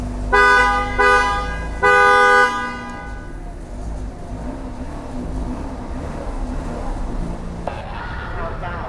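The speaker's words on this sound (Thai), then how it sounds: "ตอนนี้เราก็รอเวลานะคะทุกคน เพื่อที่จะบีบแตร สามรอบ" A car horn honks three times in quick succession, loud and close, followed by a steady rumble of traffic or idling engine noise.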